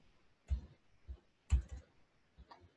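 A computer mouse clicks a few times, soft close taps spaced about half a second apart in a quiet room.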